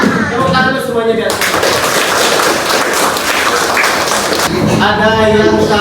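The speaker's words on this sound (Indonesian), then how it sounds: "Tepuk tangan dulu semuanya biar." Classroom of students clapping hands together in a dense, steady burst between stretches of a teacher's voice, loud and close, with speech before and after.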